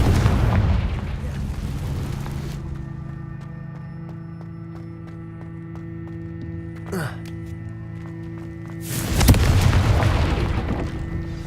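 A Confringo blasting spell in Hogwarts Legacy goes off with a heavy boom, followed by a low humming lull and then a second loud explosive burst near the end.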